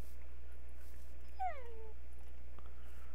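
A single short, descending whimper from tamed wolf dogs in Minecraft version 1.4.2, faint over a steady low hum, with a quiet tick afterward and no talking.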